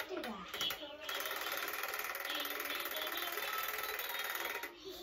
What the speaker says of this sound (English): if you turn it off and back on, it spins around like that